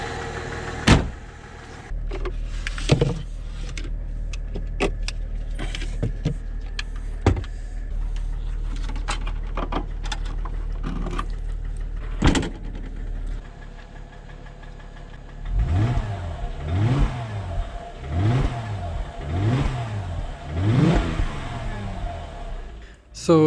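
A cheap high-mileage Mercedes with a knocking engine that also burns oil, driven away with rhythmic engine knocking and mechanical clatter, plus clicks and thumps inside the car.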